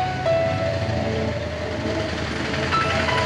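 A train passes at Gaurela railway station, a steady close rumble of rail cars with some squealing tones, continuous and fairly loud throughout.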